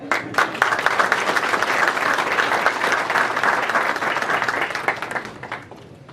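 Audience applause at a press conference for the Magic City Classic, a full sustained round of many people clapping together, fairly close and steady, tapering off in the last second.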